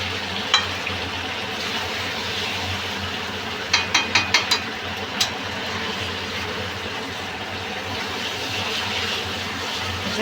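Home-style chicken curry masala sautés in a pan with a steady low sizzle, and a quick burst of metallic scraping clicks from a stirring spoon breaks through partway, without talk.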